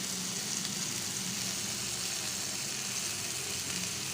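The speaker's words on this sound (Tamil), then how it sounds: "இப்போ இந்த மீனை வறுத்துருவோம்" Fish fries in a pan with a steady, quiet, continuous sizzle and no voices.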